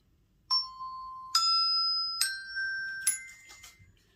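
Four bright xylophone notes ring out one after another, each stepping higher and sustaining briefly, clear and alone against silence.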